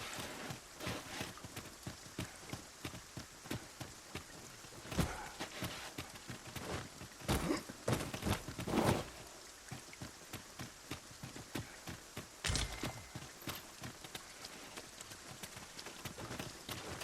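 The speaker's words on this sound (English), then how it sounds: "Must it rain now?" Steady rain patters down in the video game Dragon's Dogma 2, with scattered louder drops and splashes, a continuous wet hiss with occasional sharper hits.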